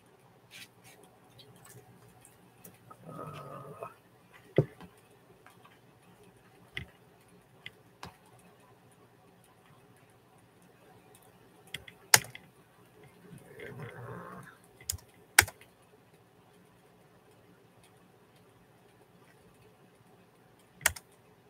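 A 1960s Smith Corona typewriter typing during a thunderstorm, with sparse, sharp key strikes and clacks scattered across a quiet room and faint low rumbles swelling twice in the background.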